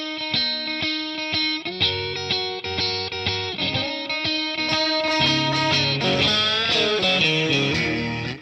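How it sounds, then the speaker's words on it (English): Distorted Texas blues electric guitar riff, loud and continuous with punchy picked notes and bent sustained lines, played alone without talk. "You can feel the Texas heat in that riff."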